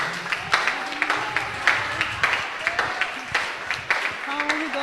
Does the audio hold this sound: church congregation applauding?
yes